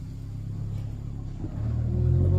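A small truck rolls across a covered bridge, a low rumbling engine drone that grows louder and heavier toward the end as it draws near.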